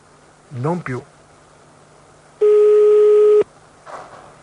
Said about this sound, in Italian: Va bene, un altro squillo solo, dai.